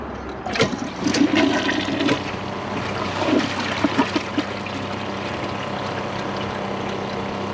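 A short flush of a 2015 Kohler Cimarron toilet, a close rushing gurgle that swells quickly, churns for a couple of seconds, then settles into a quieter trickle and refill hiss.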